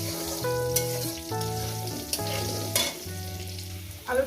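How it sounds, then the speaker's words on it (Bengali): Potatoes frying in hot oil in a pan for a Bengali rohu fish curry with eggplant and lentil dumplings, a steady close sizzle with stirring clatter and scraping of the spatula, no voices. "আলুগুলো আমি 4-5 মিনিট ধরে একটু ভেজে নেব।"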